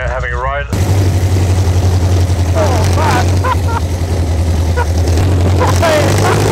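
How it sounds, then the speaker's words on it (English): A loud, steady drone with a deep low hum from an aero-engined hill climb race car runs throughout, starting abruptly after a brief quieter moment, with voices talking over it. "hopefully we might get a ride up the hill in that awesome aero engine car."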